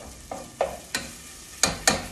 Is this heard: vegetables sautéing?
yes